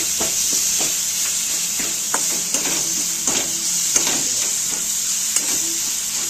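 Spiced potato filling for batata vada sizzles steadily in hot oil in a pan, with a soft sustained hiss and irregular scraping stirs of a spoon close by, no talk.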